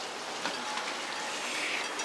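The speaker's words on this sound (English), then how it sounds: "It's raining again." Steady rain falls outdoors on a wet night, a soft continuous hiss of drops with a few slightly louder patters close by, no voices.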